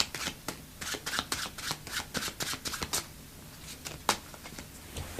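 Overhand shuffle of a deck of playing cards to stack them, a rapid series of crisp riffling snaps and soft card slaps in bursts, close and clear with no talk.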